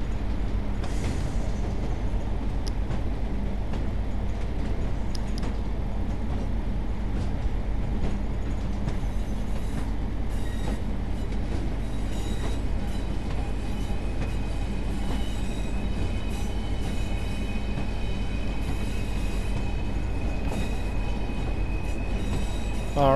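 Pacer diesel multiple unit from Train Sim World 4, running from Saltburn toward Darlington, heard as a steady, loud, continuous engine drone and rumbling wheels on rail, with faint squeals and no talking.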